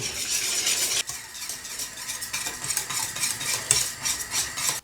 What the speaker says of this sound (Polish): Wszystko dokładnie mieszam i gotuję budynie.